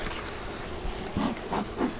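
Honeybees of a queenless colony hum inside a hive box in September, a steady close buzz with a few soft knocks and shuffles over it.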